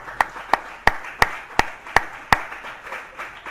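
A church congregation claps in a steady rhythm, about seven sharp, evenly spaced claps ringing out moderately loud over a quiet room.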